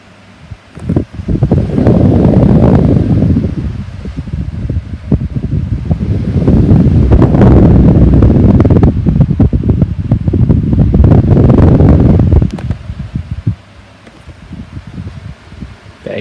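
A 12-inch Micromark desk fan from the 1980s or 1990s running on high, a steady loud whooshing airflow close to the microphone that swells and dips, then eases near the end.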